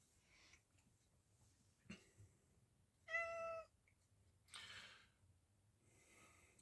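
A single short, harmonic cat meow, fairly clear and close, between quiet pauses with a few soft bumps and a brief noisy rustle.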